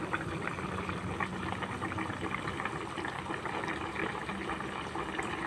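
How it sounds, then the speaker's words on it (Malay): A pot of eggplant simmering in water and coconut milk gravy comes up to a boil, giving a steady close bubbling and gurgling that holds even throughout without pause or voices. "Kita tunggu sekejap hingga dia menggelegak ya."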